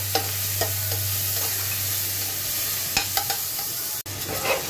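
Chopped onions frying in a pan for a Bengali fish-head muri ghonto, a steady close sizzle with occasional stirring clicks and scrapes, alone without speech over a low background hum.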